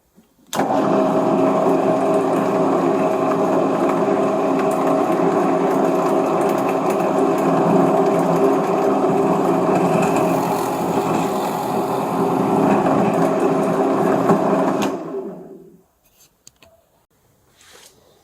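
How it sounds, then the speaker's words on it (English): A steady, loud motorized whir of a drill boring a hole in Fiji mahogany for a woodworm screw, running continuously for about fifteen seconds, then stopping abruptly, leaving near silence. "I'm just going to drill a hole and put it on the woodworm screw."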